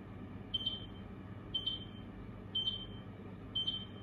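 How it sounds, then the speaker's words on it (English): A kitchen oven signalling that dinner is ready, sounding four evenly spaced high electronic beeps about a second apart, moderately faint over a quiet room hum with no voices. "It was the oven telling me that my dinner's ready."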